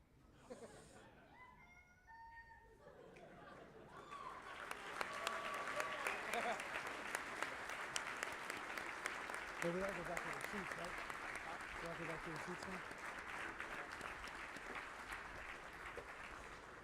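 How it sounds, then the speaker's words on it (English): Applause for award recipients at an Air Force leadership school graduation builds from brief sounds and a voice into a long, steady roomful of clapping that continues to the end. "One more round of applause for all of our award recipients."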